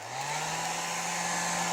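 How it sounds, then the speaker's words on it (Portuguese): A hair dryer blows steadily on a humidity sensor, a continuous close whoosh with a low motor hum that holds level throughout. "Conforme eu vou soprando o secador aqui"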